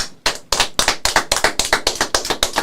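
A single person claps in a studio, about a dozen sharp, evenly spaced claps that start slow and quicken into a steady rhythm, loud and close with no talk over them.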